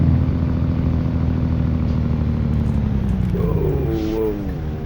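A modded truck engine in American Truck Simulator drones loudly and steadily with a low rumbling tone, then shifts pitch near the end as revs rise and fall, with a sweeping whine over the top.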